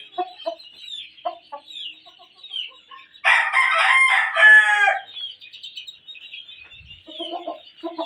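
A two-year-old gamecock gives one loud, full crow close by, with softer clucks and chirps of fowl scattered before and after.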